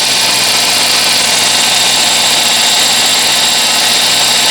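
A 2006 Dodge Charger with a 5.7 Hemi V8 runs steadily after a power steering pump replacement, heard as a loud, constant engine roar with a whining, hissy edge and no talking.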